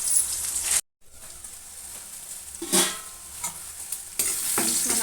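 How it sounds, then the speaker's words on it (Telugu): Onions with a pinch of salt frying in a pan, a steady close sizzle with stirring scrapes, a brief silent gap near the start and louder frying toward the end. "ఆనియన్స్ మంచిగా వేగాలంటే ఇందులోకి ఉప్పు వేసుకోవాలి ఫ్రెండ్స్ కొద్దిగా"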